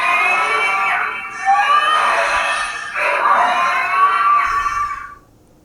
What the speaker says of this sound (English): You get that sort of alarm screeching sound.